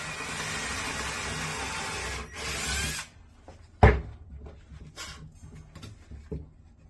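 A power drill bores down through a fence picket board in a steady whirring burst of about three seconds, then stops, followed by a sharp knock and faint handling noises close by.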